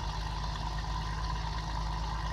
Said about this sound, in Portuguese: Gosto do som do motor, olha.